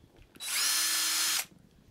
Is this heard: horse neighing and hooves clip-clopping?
no